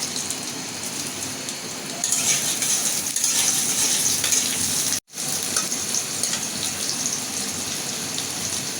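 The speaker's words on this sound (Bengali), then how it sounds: "আমার তেল গরম হয়ে গেছে এখানে আমি রসুন নিছি পেঁয়াজ নিছি কাঁচামরিচ একসাথে আমি ভেজে নেব" Garlic, onion and green chillies frying together in hot oil, a dense steady sizzle heard close up, briefly cutting out for an instant midway before resuming at the same level.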